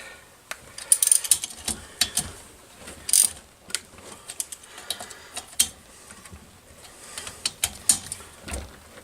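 A ratchet snugs nuts down onto studs in bursts of quick clicking strokes, close and fairly loud, with short pauses between runs and no talking.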